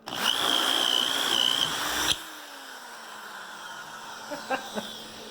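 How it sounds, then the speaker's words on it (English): A Metabo SBE 650 power drill with a masonry bit whines steadily at high speed for about two seconds, then cuts off abruptly, leaving a faint hum and a few small knocks. "You really shouldn't run your drill bits too fast anyways because you're just going to burn them up."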